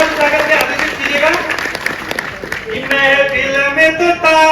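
Audience clapping at a Hindi comic poetry gathering, a kavi sammelan, mixed with loud crowd noise and strong voices and tonal sounds over it, scattered sharp claps running throughout.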